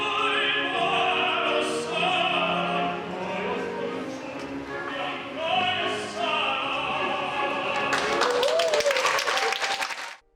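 Audience applause at a concert of Korean art songs and arias sung by tenor Michael Barbasis. It rises near the end as sharp dense clapping that takes over from sustained tonal music, then cuts off abruptly.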